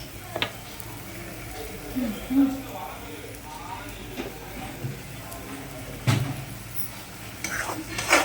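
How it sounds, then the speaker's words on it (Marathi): A spoon stirs prawn masala frying in oil in a pan, scraping and clinking with a low sizzle under a voice. "ह्याला असं तेल सुटेपर्यंत आपण हलवत राहूया"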